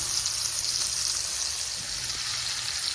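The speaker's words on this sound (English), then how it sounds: "I'm going to let this sear for a while." Chuck roast searing in a pan of garlic, thyme, butter and bacon grease gives a steady, even sizzle and crackle that holds unbroken and fairly quiet, with no talking.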